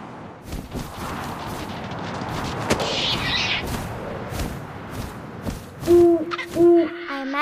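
An owl hoots twice, loud and near, in the video game What Remains of Edith Finch, after wind and scattered deep booming thuds, with no talking.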